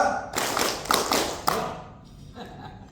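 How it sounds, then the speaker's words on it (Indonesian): A group at a service excellence training session claps together in a rhythm clapping game, several quick sharp bursts of hands in rapid succession up close, then a quieter, sparser patter fading out. "sekali lagi tepuk tangan buat kita semuanya"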